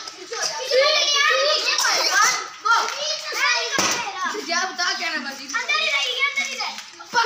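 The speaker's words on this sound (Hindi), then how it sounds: "बच्चे खेल रहे हैं।" Children play and shout in a swimming pool, their high voices chattering and squealing continuously at close range with a few splashy hand sounds, and an adult's voice mixed in.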